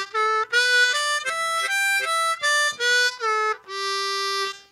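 A harmonica plays a major pentatonic scale in second position: about nine clean, separate notes stepping along steadily, ending on one long held tone. The notes are close and clear, with no talking.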